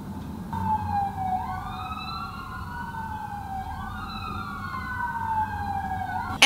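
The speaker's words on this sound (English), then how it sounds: "There's sirens." An emergency vehicle siren wails outside, its rising and falling tone sweeping steadily over a low traffic rumble for several seconds at moderate distance.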